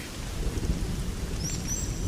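Rain falls in the wild as a steady, even wash of noise with a low rumble underneath and faint high chirps near the end; no talking.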